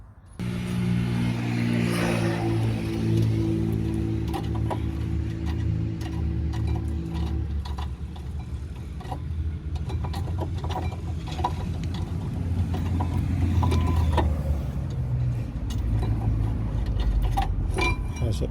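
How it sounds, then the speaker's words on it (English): Tools working on the bolts of a 2011 Nissan Altima's front brake caliper bracket: a ratchet ticking rapidly and metal clinking, then scattered clanks and rattles of parts, loud and close, with a steady hum early on. "There's two bolts here holding the caliper bracket. So just take those off."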